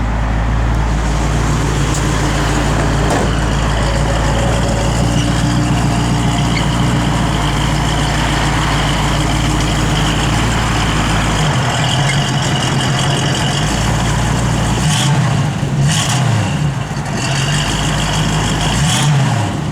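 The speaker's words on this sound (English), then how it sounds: "Car's got a good sound. Again, H-pipe dual exhaust system." A 1966 Ford Mustang with an H-pipe dual exhaust idles steadily and loudly close by, its deep rumble continuous throughout with a few brief revs near the end.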